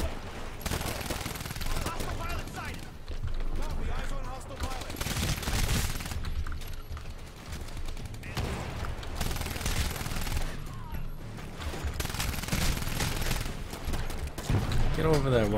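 Sustained gunfire against a titan in the video game Titanfall rattles in long automatic bursts with short pauses between them, loud and close, while a player talks over it at times.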